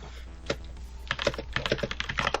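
Rapid typing on a computer keyboard during a live art stream: a single key tap, then a dense, uneven run of close, crisp clicks over a low steady hum.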